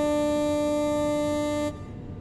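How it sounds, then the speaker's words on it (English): A train horn sounds in the video game Train Sim World 2 on a London commuter route, as one loud sustained tone that cuts off sharply and leaves low rumbling behind. "We'll do a horn honk."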